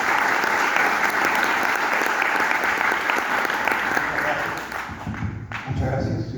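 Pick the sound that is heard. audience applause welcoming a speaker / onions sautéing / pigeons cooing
audience applause welcoming a speaker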